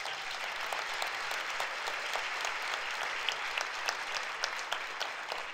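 A church congregation at a cell-group meeting claps together, a dense, steady patter of many hands at moderate distance that continues for several seconds with no talk over it.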